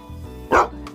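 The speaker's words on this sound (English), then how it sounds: "And the dog." A single sharp dog bark rises over a low background hum, followed by a faint yip.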